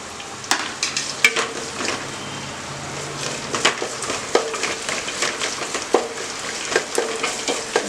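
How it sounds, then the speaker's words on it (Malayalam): Onion and curry leaves sizzle and fry with green chili in a pan for upma, a steady crackling hiss broken by sharp stirring scrapes, close and fairly loud with no talk. "പച്ചമുളക് ഒന്ന് മാറി കഴിഞ്ഞതിന് ശേഷം ഈ ഉള്ളി ഇട്ട് കൊടുക്കാം."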